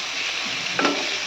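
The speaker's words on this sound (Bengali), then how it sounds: "দেখো মশলাগুলো ভাজা হয়ে গেল।" Spices with chili powder fry in a pan with a quiet steady sizzle, broken by a brief stir or scrape near the end.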